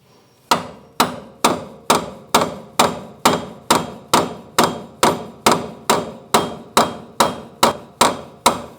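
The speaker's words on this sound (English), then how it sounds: "I'm just going to tap on the strut," A hammer strikes the strut and steering knuckle of a 2012-2018 Ford Focus about sixteen times at an even, steady pace, each blow a sharp close metallic knock with no talk.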